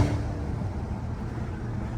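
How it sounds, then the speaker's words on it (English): A loud BMW F8X engine on a quiet street, a low rumbling drone that holds steady for two seconds, heavy in the bass and close by, with no voices. "this car is ridiculously loud."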